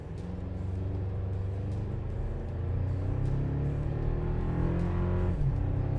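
A Toyota Tacoma with a 2.4L turbo four-cylinder, in four-wheel drive tow haul mode and towing a heavy 5,300 lb load, pulls at full throttle with a loud, steady engine drone whose pitch climbs gradually over several seconds.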